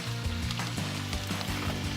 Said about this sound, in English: when that starts sizzling a little bit, we're gonna add the meat